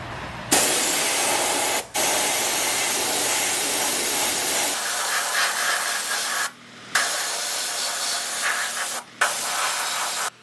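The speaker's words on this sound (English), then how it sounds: "So I'm using my glue gun with the air hose and then a piece of cardboard so that I can prevent any overspray." Air-powered spray glue gun on an air hose spraying headliner adhesive, a loud steady hiss in long bursts with three brief pauses where the trigger is released.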